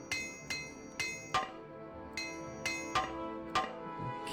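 Armorer's hammer repairing gear in the video game Morrowind: seven sharp metallic clinks at a steady, roughly half-second rhythm, each ringing briefly, close and clear with no talking.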